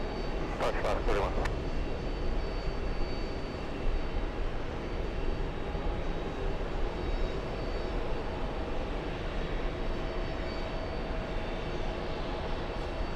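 A heavy jet airliner takes off from runway 22 right at JFK, heard as a steady, loud broadband roar that holds for the whole stretch, with a few sharp clicks near the start and voices faintly underneath.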